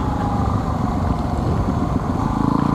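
A Yamaha WR250R dual-sport motorcycle's four-stroke engine runs steadily and fairly loud and close, a continuous throbbing drone with no speech.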